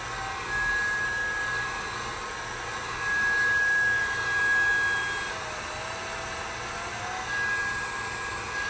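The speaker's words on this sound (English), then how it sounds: "And I'll also take the heat gun to it." A heat gun blows a steady, loud airy roar with a faint whine over an acrylic flow tumbler, swelling slightly twice as it moves nearer, with no voices.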